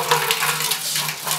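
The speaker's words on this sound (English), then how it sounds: "Pail hanging here, faucet turned on," Maple syrup running from the faucet of a hanging pail, a steady soft liquid pour with a gentle trickling hiss, continuous and close, with no voices.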